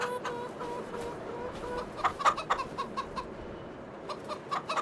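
Chickens clucking in a farming video game set on an Iowa plains farm map, scattered soft clucks and brief louder bursts over a steady background hum, fairly faint, with no talking.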